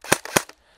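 An airsoft AS VAL replica fires a quick burst of about three sharp, dry shots a fraction of a second apart, close and crisp, then falls silent.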